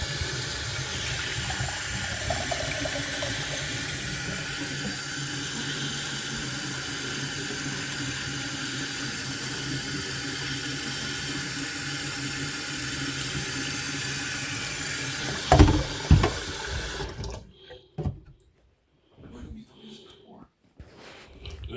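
Hot water runs steadily from a tap into a sink with a continuous hiss and splash, then shuts off near the end, leaving a brief quiet.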